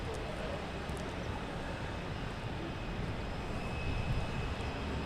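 Cape Air Cessna 402 twin-engine airplane at Logan Airport, a steady broadband engine drone heard from some distance, faint and continuous.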